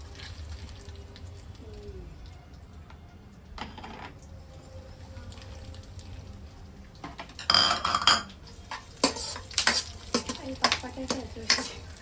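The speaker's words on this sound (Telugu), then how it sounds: "కాజు బాదం ఇవన్నీ మనం ఎట్లా అంటే ఉన్నాయి కదా, ఇవన్నీ మొత్తం కొంచెం మంచిగా ఫ్రై చేసుకోవాలి." Cashews and almonds fry in ghee in a pan, with a steady low sizzle underneath and bursts of a utensil stirring and scraping against the metal pan in the later half.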